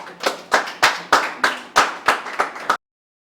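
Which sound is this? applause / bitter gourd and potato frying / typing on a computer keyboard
applause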